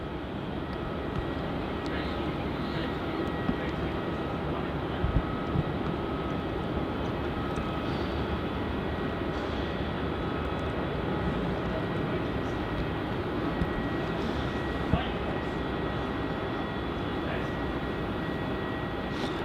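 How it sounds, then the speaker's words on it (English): Virgin Australia jet departing Melbourne Airport for Newcastle in heavy wet weather, a steady broadband roar that holds for the whole stretch, moderately distant, with faint talk mixed in. "this is going to be Virgin Flight VA 1593 heading off to Newcastle"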